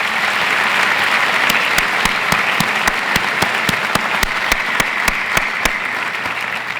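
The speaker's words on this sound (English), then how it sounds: "Let's give these guys a round of applause" A large audience at a 2019 State of the University address claps in a loud, sustained round of applause, dense and even from start to finish, with a few sharper individual claps standing out.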